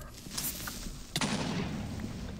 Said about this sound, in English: And I heard an explosion.